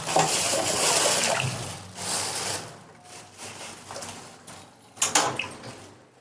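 Elephant foot yam being washed and soaked in water at home, with splashing and swishing bursts that come and go, close to the microphone, and a sharper splash near the end.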